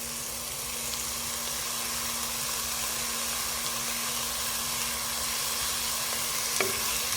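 Ginger-garlic paste sautés in a hot pan for chicken rice, giving a steady, close sizzle and hiss throughout, with a single light clink near the end and nobody speaking.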